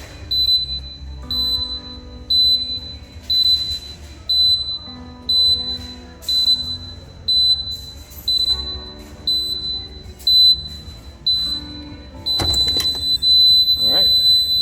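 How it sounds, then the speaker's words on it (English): A delayed egress maglock door alarm beeps steadily in a repeating pattern, short electronic tones about once a second, then a longer continuous sound near the end. "Push the door hard until you start hearing beeping and the red LED starts flashing."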